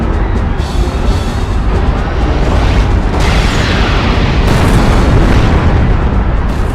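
Sky torpedo blast from the giant-robot game Robot Alchemic Drive: a loud, sustained booming explosion with a thick rumbling roar and crackling debris, continuous throughout.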